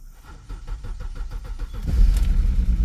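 A salvage-auction BMW X3 with a clutch cranks with rhythmic starter chugs, then catches and settles into a louder rough running engine, close by.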